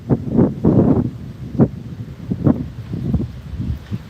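Gusty wind blows outdoors ahead of a storm, buffeting the microphone in uneven rushes and bursts over a few seconds with no talking.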